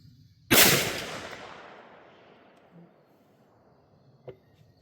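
A single loud gunshot from a Bear Creek Arsenal 350 Legend rifle cracks sharply on an outdoor range, then fades through a long, decaying echo. A faint clack follows a few seconds later.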